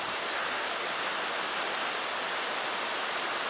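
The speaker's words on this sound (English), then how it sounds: "You might be able to hear it falling on the roof of the shed that I'm standing in." Steady rain drums on a shed roof, heard from inside the shed during a rainstorm as a dense, even hiss that runs unbroken with no talk.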